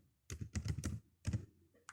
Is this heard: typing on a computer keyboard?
yes